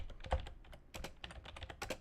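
Typing on a computer keyboard produces quick, irregular clicks and taps at close range, fairly quiet with brief pauses between bursts of keystrokes.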